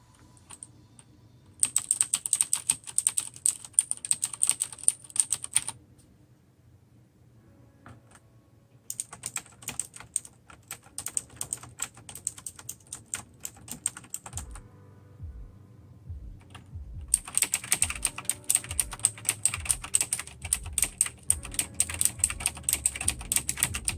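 Fast clattering keystrokes on a keyboard with Razer mechanical switches come in three long bursts separated by short pauses, the last run mixed with soft thumps, close and crisp.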